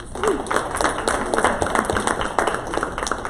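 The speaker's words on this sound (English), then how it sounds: "one more round of applause" A room of people applauds, a steady patter of many hands clapping at moderate volume for a few seconds.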